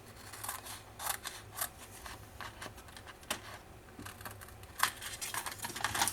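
Scissors snipping a large paper square for a scrapbook album, a quick series of soft crisp cuts running almost continuously, close and moderately quiet.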